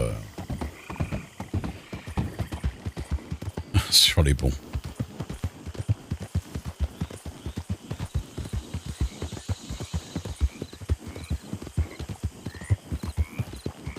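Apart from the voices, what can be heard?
horses clip-clopping and neighing on bridges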